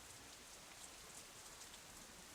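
Steady rain falls in the visual novel Katawa Shoujo, a dense, even hiss of drops on surfaces that holds at one level for the whole stretch, with no voices or thunder.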